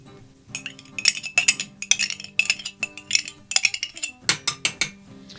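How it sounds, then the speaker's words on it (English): Ketchup goes into a saucepan with a rapid, uneven run of metallic clinks and taps from a utensil on the pan, close and fairly loud, with no talking. "I'm going to start by placing in about 1 cup of ketchup into a saucepan"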